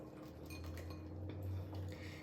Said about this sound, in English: I'm gonna whisk this together and then I'm gonna give it a taste